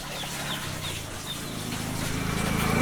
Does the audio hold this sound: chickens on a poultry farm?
yes